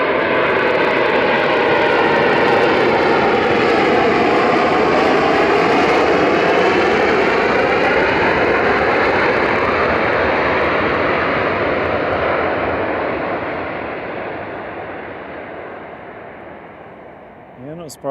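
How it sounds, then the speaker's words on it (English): A Ryanair jet arriving from Alicante lands at Manchester Airport, a loud sustained roar of reverse thrust that swells then gradually fades over many seconds, with people talking over it. "not surprised you using all that reverse thrust"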